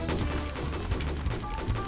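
Rapid bursts of Roblox Military Tycoon gunfire crackle over a dense, busy background of in-game noise, shots stacking closely together.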